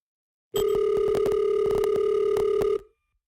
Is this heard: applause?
no